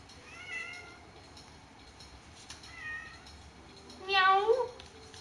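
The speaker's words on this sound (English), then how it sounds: "Can y'all hear my kitty cat?" A cat meows three times, two softer calls followed by a louder, drawn-out meow near the end, over a low background hum.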